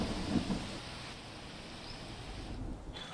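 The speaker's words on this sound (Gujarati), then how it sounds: "અમદાવાદમાં 2 દિવસથી જે ધીમી ધારે વરસાદ પડી રહ્યો છે" Steady rain falling across Ahmedabad streets, an even wash of noise with no voices, with faint low rumbles in the background throughout.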